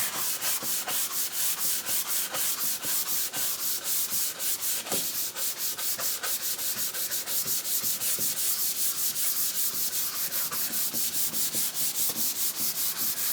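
A guitar fretboard is hand sanded with 500 grit paper. The strokes are steady, close and rhythmic, an even back-and-forth rasp that carries on without pause and without talking.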